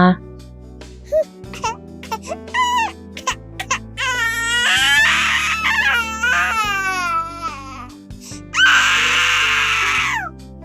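A baby boy lying on a bed bursts into loud, sustained wailing cries that fill the room, rising in repeated strained bursts with short gasping breaks between them.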